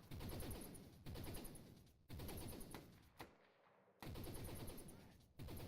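Gunfire in the video game Insurgency, with loud sustained bursts of rapid shots broken by brief pauses, heard close and dense throughout.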